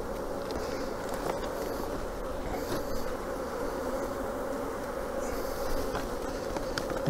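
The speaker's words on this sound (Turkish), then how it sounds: "O yüzden arı biraz huzursuz oldu" A dense, steady hum of many restless honeybees buzzing up close at a hive, continuous and agitated throughout with no voices.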